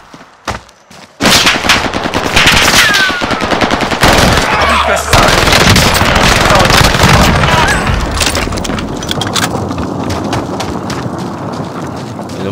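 Gunfire from the Warzone Pacific video game: dense, loud automatic bursts and rapid shots fill nearly the whole stretch after a brief quiet start, with heavy booms mixed in and a voice speaking briefly underneath.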